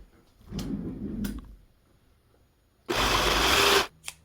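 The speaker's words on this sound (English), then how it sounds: "That's going to be where we sew it on our serger." A serger stitching the cuff seam of a quilted Christmas stocking, running in two short bursts, the second louder and about a second long, with quiet pauses between.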